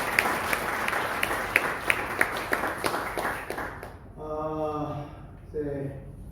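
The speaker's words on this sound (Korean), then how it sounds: "우리 매번마다 성가대 열심히 한번 격려 한번 박수 주시겠습니다." A church congregation at a Korean worship service gives the choir a round of steady, rhythmic clapping that fills the room for a few seconds and then stops as a voice carries on.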